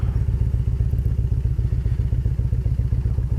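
A Harley motorcycle engine fitted with a Stage 1 high-flow intake and aftermarket exhaust idles with a loud, deep, rapid lumpy thumping and a clattery pulse, close and steady throughout.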